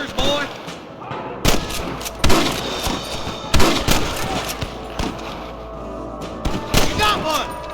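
A Red Dead Redemption shootout with loud, sharp gunshots cracking at irregular intervals, several close blasts mixed with scattered shots, while characters shout over the fight.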